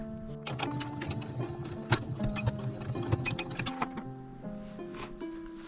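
A sewing machine runs fast stitches on a quilted pouch in short mechanical runs with brief pauses, close and clear with no talking.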